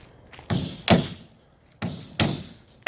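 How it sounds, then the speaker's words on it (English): Nails hammered into wooden walls for a dog kennel under construction: four sharp, close strikes in two pairs, with quiet gaps between and no talking. "We have Sven pounding nails."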